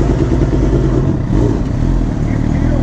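A sport bike engine in first gear revs loudly and close by, a steady, dense mechanical roar with slight rises and dips and no clear pauses.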